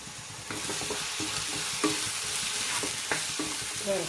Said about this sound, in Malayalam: വെളുത്തുള്ളി ഇട്ട് കൊടുക്കാം അതിട്ട് കൊടുത്തിട്ട് ഒന്ന് ഇളക്കി കൊടുക്കാം